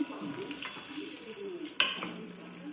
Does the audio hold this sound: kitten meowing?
no